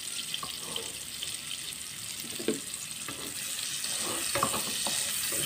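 Onion and garlic sautéing in a pan for winged bean adobo, a steady close sizzle with scattered stirring scrapes and small crackles, no voices.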